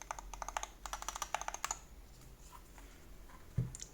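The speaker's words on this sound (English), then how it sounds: "it's very nice sounding for a rapid trigger keyboard" Quick bursts of keystrokes on a Varmilo Muse65 HE rapid-trigger keyboard, soft muted clacks in uneven runs close to the microphone, followed by a quieter pause and a faint thump near the end.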